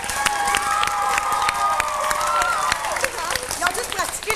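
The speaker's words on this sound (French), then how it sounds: "On peut les applaudir." A children's television studio audience claps and cheers under a loud, excited adult voice, with busy overlapping applause and shouting running throughout.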